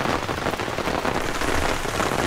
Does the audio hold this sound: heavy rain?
yes